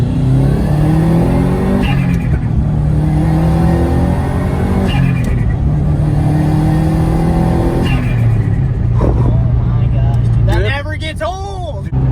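A Subaru STI accelerates hard up a hill in a loud, close run of rising engine pulls, with repeated gear changes breaking the climb before the engine fades near the end under excited voices.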